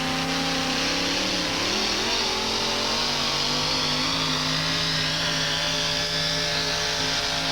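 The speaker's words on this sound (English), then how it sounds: "he's driving a competition pull truck" A competition pull truck at a 1987 USHRA monster truck event in Buffalo roars with its engine held at high revs, loud and continuous with a slight rise and fall and no talk.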